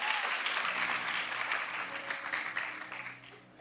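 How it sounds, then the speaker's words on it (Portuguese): A church congregation applauding the Lord during a service, a dense continuous wash of many hands clapping that fills the room and then thins and fades toward the end. "Você pode aplaudir ao Senhor, por gentileza?"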